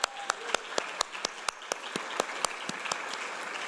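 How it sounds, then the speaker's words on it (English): Sparse, distinct hand claps ring out one after another in a roughly steady rhythm at an event on the 2024 election and politics, sounding like a small group or a single person clapping at moderate distance against a quiet room. "Give them a big round of applause."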